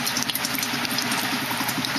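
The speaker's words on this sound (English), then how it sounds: "Look at the amount of gas collecting in those bubbles." Gas bubbling steadily in a hydrogen cell running warm around 104 degrees, a continuous dense fizzing and hissing wash close by, with no talk.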